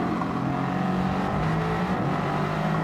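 Race car engine heard on board through the Laguna Seca corkscrew in a WTCC sim racing game, a steady loud drone that drops in pitch under braking and then climbs again, with no talking.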